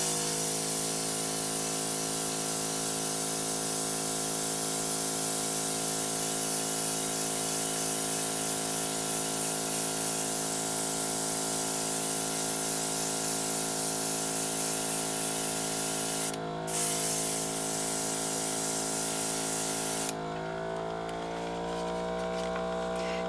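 A small airbrush sprayer hisses steadily while spraying paint onto doll hair, a continuous close airy spray with a pump-like hum underneath, briefly cutting out twice and changing tone near the end.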